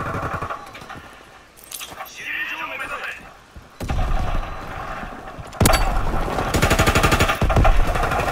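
MG15 machine gun in Call of Duty WW2 multiplayer fires in rapid, loud bursts that start and stop several times, with someone talking over the shooting.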